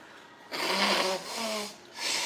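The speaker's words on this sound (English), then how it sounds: "Excuse me while I blow my nose." A person with a head cold blows their nose, producing three loud, breathy nasal blasts in quick succession, close up, with no talking over them.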